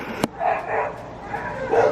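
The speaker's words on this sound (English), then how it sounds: "I need you guys to see these dogs living their best life." Dogs bark and yip close by, with a few short excited barks and whimpering tones over a noisy indoor background.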